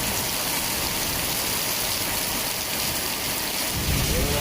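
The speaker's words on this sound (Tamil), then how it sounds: "பூந்தமல்லி மற்றும் அதன் சுற்றுவட்டார பகுதிகளில் கனமழை பெய்தது" Heavy rain pours onto streets in Poonamallee, Chennai, a loud, dense, continuous roar that swells slightly toward the end, with no voices.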